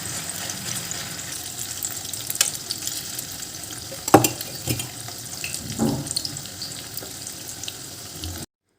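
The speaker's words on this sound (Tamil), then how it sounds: "அடுத்து மீல் மேக்கர் ஃப்ரை பண்ணிடலாம்." Soya chunks (meal maker) coated in masala fry in a cast-iron pan, a low steady sizzle with scattered scraping and clinks from stirring, one sharper knock midway, close and moderately loud.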